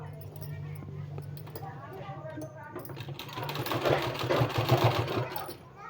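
A sewing machine runs in short bursts while stitching a palazzo pant design, its rapid mechanical chatter growing louder and denser toward the end, with a person speaking over it.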